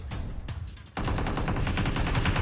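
Rapid automatic gunfire in PUBG Mobile on a snow map, with a shotgun mentioned. A burst of shots is followed by a short lull, then continuous close, loud rattling fire.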